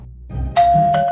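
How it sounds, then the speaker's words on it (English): Cartoon doorbell rings once with a bright ding-dong chime, two clear tones ringing out over a soft low rumble, loud and close. "Let's ring the doorbell."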